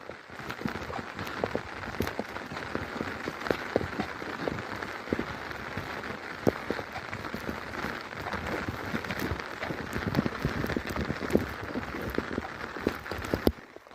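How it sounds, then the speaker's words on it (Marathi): Steady rain falls on a cloudy monsoon day over open fields, a dense, continuous patter with scattered louder drops, close and even throughout with no talking. "पाऊस पाऊस नुसता पाऊस"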